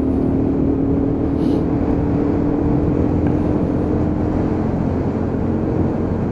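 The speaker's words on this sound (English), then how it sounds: "get it up to fifth as quick as we can, and then bring the revs up from fifth gear." Lexmoto Venom 125cc motorcycle held at high revs in fifth gear while riding, a loud, steady engine drone blended with rushing wind noise throughout, with no voices.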